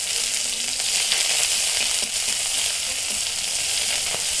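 Black cumin, chopped garlic and chili hit hot oil in a kadai, producing a loud, dense, continuous sizzle close by that holds steady throughout, with no voices.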